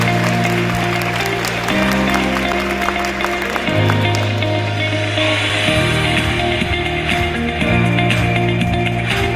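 Applause from the audience at the opening ceremony of the 2025 Yushan Forum in Taiwan, welcoming a former Prime Minister of Denmark. Steady clapping fills the hall for about nine seconds over loud stepped walk-on music.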